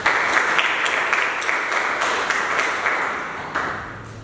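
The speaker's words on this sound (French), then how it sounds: "Allons-nous l'accueillir par nos applaudissements." An audience at a national eloquence contest claps steadily for over four seconds, welcoming a speaker to the stage, with dense, even applause and a few sharper accents throughout.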